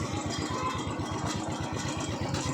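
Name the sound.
Royal Enfield Bullet motorcycle engine idling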